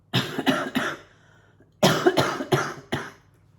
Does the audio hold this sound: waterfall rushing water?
no